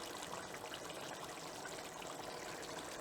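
Hot water, about two cups, pours into a pan of frying mutton for do pyaza, a steady close trickling stream that runs without a break and sits faintly in the background.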